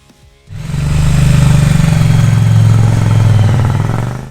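A Triumph Bonneville T100 motorcycle engine starts up and runs loud and close, a steady throbbing idle with a slight rise in revs.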